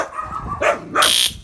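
Small dogs yapping in a few sharp, close barks and yips, with short whining gaps between them.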